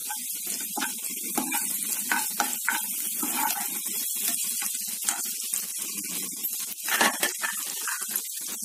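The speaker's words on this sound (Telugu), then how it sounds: "బటర్లో గార్లిక్ బాగా వేయాలి, అలాగే కొంచెం చిల్లీస్." Garlic and chillies fry in butter in a pan, giving a busy crackling sizzle with rapid spits and pops, close and fairly loud, steady throughout.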